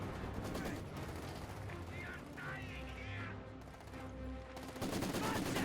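Rapid Maxim machine gun bursts from a Company of Heroes 2 real-time strategy battle, layered with other gunfire and explosions in a dense, continuous wartime din, with a commentator talking over the action throughout.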